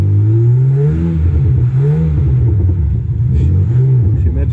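Simulated BMW M4 engine note from an active exhaust sound generator fitted to a 2023 BMW X6 G06, revving loud and close in repeated rising and falling sweeps, with a steady droning rumble underneath.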